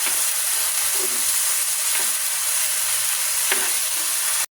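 Corned beef and mashed potatoes sizzle steadily in a hot pan, a continuous frying hiss broken by a few spatula scrapes and stirring knocks, close and fairly loud with no talking.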